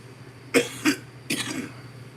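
A few sharp, harsh coughs close up after smoking, two quick bursts then another rough cough, with faint background hum.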